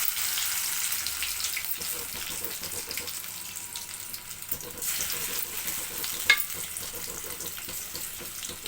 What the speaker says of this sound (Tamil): நல்லா எண்ணெய் காஞ்சதுக்கப்புறம் போடுங்க, அப்போ தான் நல்லாயிருக்கும், ஒட்டாமல் வரும்.